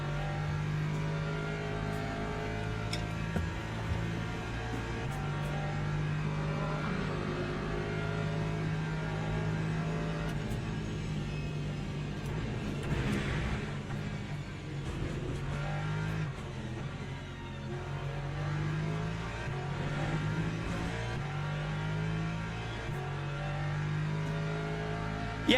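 Porsche race car engine in the racing sim Le Mans Ultimate, a steady loud drone that rises and falls with gear changes throughout, with faint other cars around.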